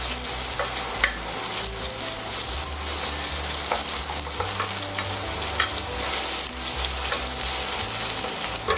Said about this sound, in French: Ensuite, tomate concentrée, que je vais faire griller légèrement.